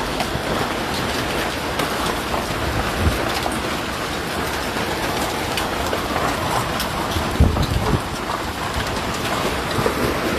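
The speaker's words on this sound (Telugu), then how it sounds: "విపరీతమైనటువంటి వడగండ్ల వాన, వడగండ్లు." A heavy hailstorm lashes down in Karimnagar, making a dense, continuous roar of impacts with scattered sharper knocks, steady and loud throughout, with no voices.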